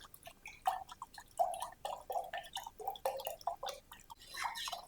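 Quiet, irregular splashes and drips of water going into a buttermilk mixture, close by and with no voices.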